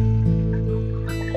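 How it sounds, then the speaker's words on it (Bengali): Water poured into a cooking pot for khichuri, a close steady gurgling pour with a short splashing burst near the end, no talking. "এখন পাত্রের মধ্যে জলটা দিয়ে দিচ্ছি।"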